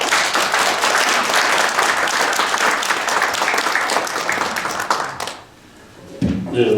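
A lecture audience applauds after a talk on Korean foreign policy and nuclear security, dense sustained clapping filling the room for about five seconds before dying away into quiet.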